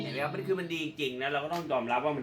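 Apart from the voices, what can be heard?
No everyday noises stand out.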